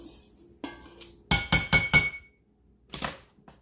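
A glass baking dish clinks and knocks in the kitchen, with a quick cluster of four sharp taps in the middle, scattered single knocks around it, and quiet gaps between.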